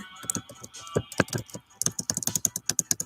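Quick clicking keystrokes on a computer keyboard come in close, uneven bursts, some taps louder than others, with a brief pause midway before a faster run of typing.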